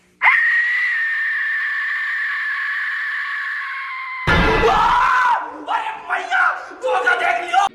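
An Aztec death whistle lets out a loud, sustained shrieking scream that holds steadily for about four seconds, then breaks into a harsher, ragged burst of wailing screams with a deep noisy rumble underneath.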